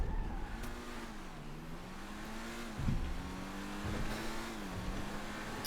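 A race car's engine revs in a storm-drain time trial of a racing video game, its pitch wavering as it accelerates and eases off, with a brief thump midway, steady and loud with no voices.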